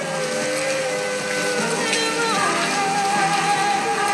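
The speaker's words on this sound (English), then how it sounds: "It's still raining." Steady rain falling in a film scene, a dense continuous hiss that holds at an even, fairly loud level throughout.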